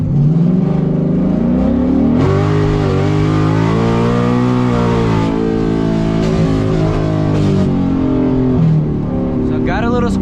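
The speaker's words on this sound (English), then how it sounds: "Let's go ahead and give it a third gear rip to see how it runs." A drag car fitted with a 15-inch drag pack accelerates hard in third gear, its engine roaring loud and steady as the revs climb and shift over several seconds, with a voice heard faintly beneath the engine noise.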